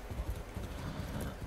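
Horse hooves from the video game Far Cry 6 clip-clop in a quick, steady rhythm, fairly soft and close, with no voices over them.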